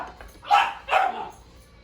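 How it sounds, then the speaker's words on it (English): A dog in a home kitchen gives two sharp, close barks about half a second apart, followed by a faint trailing yip, loud against a quiet background. "my dog is bugging out"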